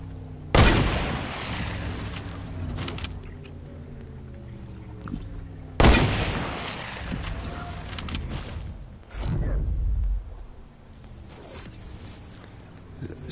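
Enemy gunfire in a shooter video game: two sharp, loud shots several seconds apart, with faint scattered firing and mechanical clicks between them, followed by a brief rumbling burst. No talking.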